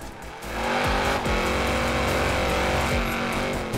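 A Ford Shelby 1000 drifts in Forza Horizon 4, its engine roaring loud and sustained with revs rising and falling as the tires squeal through the slide, no voices over it.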